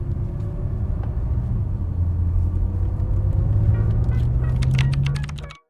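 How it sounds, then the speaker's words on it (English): Drivetrain noise from a BMW M6, thought to come from the flywheel: a steady low mechanical rumble with a faint whine rising slightly in pitch, ending with a few light clicks before cutting off. "So apparently that noise is coming from the flywheel."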